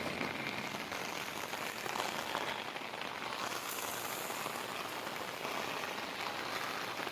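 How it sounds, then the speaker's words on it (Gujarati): Steady, dense rain pours down without pause, a constant hiss of drops hitting surfaces, heard faintly from a short distance. "ગજબ વરસાદ પડે છે ભાઈ"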